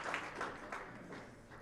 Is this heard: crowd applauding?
yes